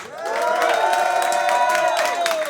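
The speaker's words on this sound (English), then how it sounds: "Please clap and cheer if you thought Callum Frost won." A live crowd at a comedy gong show claps and cheers for comedian Callum Frost, a continuous wash of applause and raised voices that swells in and holds.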